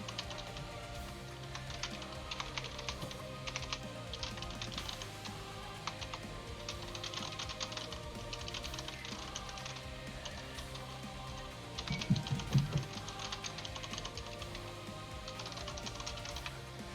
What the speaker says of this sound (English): I'm typing it to you.